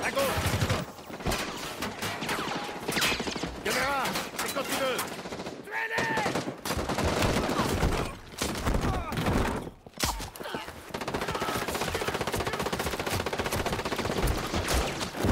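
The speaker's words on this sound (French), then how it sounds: "Attention, tir ennemi" Bursts of enemy gunfire in the tactical shooter game Rainbow Six Siege, loud rapid automatic volleys and single shots repeating across the whole stretch, with brief pauses and French voices talking over the shooting.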